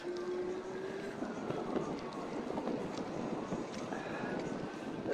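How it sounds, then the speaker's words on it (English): Steady, loud wind roars and buffets the microphone throughout on an outdoor bike ride in unpleasant weather, a constant broadband rush with no speech. "This is quite unpleasant weather really with the wind."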